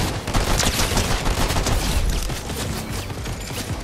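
Rapid gunfire in a Fortnite Chapter 5 Zero Build match, with a dense burst of loud, close shots filling the whole stretch.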